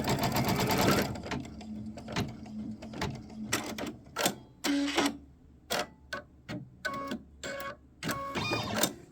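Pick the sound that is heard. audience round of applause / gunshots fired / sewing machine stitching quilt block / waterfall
sewing machine stitching quilt block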